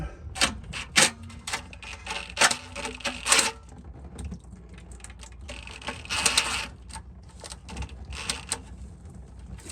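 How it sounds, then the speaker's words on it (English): Ratchet and wrench clicking while transmission pan bolts are removed from a Ford Ranger, sharp metallic clacks in irregular bursts with a few rattling runs, close and moderately quiet, with no talk. "So I'm gonna work on some of the front bolts, just pull them out just a little more."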